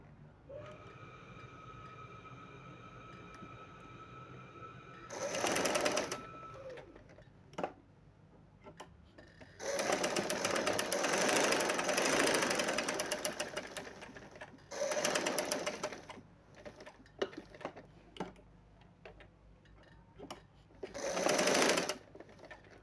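A sewing machine stitches the side slit of ladies' pants in loud, rapid bursts of several seconds each, separated by quieter pauses and occasional clicks, close and clear.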